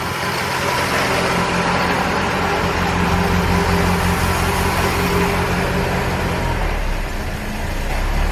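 Small-carburetor engine of a 1968 BMW, running for the first time after more than ten years of sitting, with choke partly on: a steady close rough idle that dips briefly near the end.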